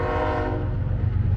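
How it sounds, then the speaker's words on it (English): A train rolls past near the Route 66 Museum in Victorville, California, in the desert, its loud sustained horn chord ringing out over low rumbling wheels that continue after the horn fades. "and here comes a train"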